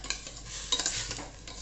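Rice being stirred in hot ghee for jeera rice, with soft scraping and light sizzling in a pan, quiet and close.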